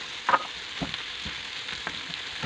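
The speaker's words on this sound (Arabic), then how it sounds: "حطيت الزيت يسخن، حطيت البصله تاعي مليح تتدبل مليح كميه كامله" Onion and pepper frying in hot oil for a stuffed kesra filling, giving a steady close sizzle with a few soft pops and stirring clicks and no talk.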